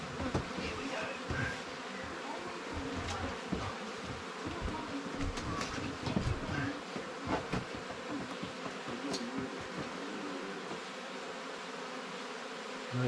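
Honey bees hum steadily throughout an open hive inspection, a dense, continuous close-up buzz with brief louder swells as frames are lifted and handled.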